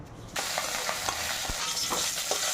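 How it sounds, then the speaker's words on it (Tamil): Curry leaves roast in sesame oil in a kadai. The oil suddenly crackles and sizzles loudly and steadily, with a few sharp pops and scraping stirs close by. "இப்போ கடாயில் கொஞ்சம் நல்லெண்ணெய் விட்டுருக்குங்க. அதில் வந்து கருவேப்பிலை நல்லா ரோஸ்ட் பண்ணி எடுத்துடலாம்."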